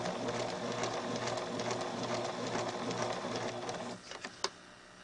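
A sewing machine fitted with an applique foot stitches steadily at a close, fairly loud level, then slows and stops with a few short clicks near the end.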